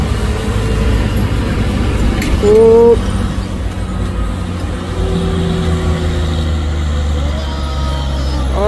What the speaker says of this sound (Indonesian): Apakah sanggup dia menanjak bosku? Trailer kontainer.